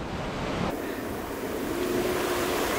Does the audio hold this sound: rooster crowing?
no